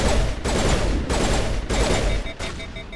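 Pistol firing in the Mass Effect video game, a steady series of loud shots spaced about half a second apart over continuous combat noise.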